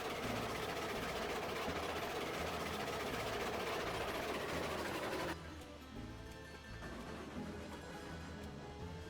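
A long train rolls steadily in the video game Railroads Online, a loud continuous engine rumble and rail noise that drops abruptly to a quieter, thinner running sound partway through.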